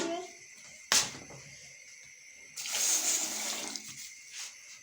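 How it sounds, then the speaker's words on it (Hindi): Water splashes and pours into a metal cooking pot of peas and potatoes, first a sharp clank and splash, then a steady gush lasting over a second, with kitchen clatter. "हमने 2 कप पानी शामिल कर दिया इसमें"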